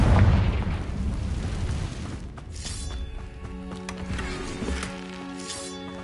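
A Confringo spell blast in Hogwarts Legacy opens with a loud booming burst. The rumble fades into lighter magical crackles and tonal shimmer over the next few seconds.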